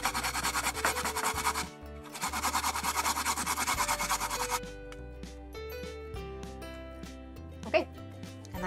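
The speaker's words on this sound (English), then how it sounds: "now I'm just going to go ahead and grate the ginger into the bowl" Fresh ginger grated into a bowl: steady rasping strokes run for several seconds with a short pause, over background music, before the scraping stops.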